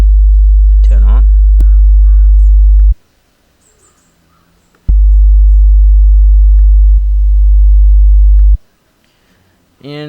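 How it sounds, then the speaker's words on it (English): A loud steady low sine wave test tone plays through Windows Media Player in long blocks, cutting out abruptly twice to near silence before resuming, with faint clicks and chirps between. "let me switch to a sine wave"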